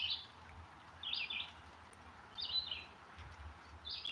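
A pet bird resting in its nest gives short high chirps, four brief calls at a steady spacing, soft and fairly close in a quiet room.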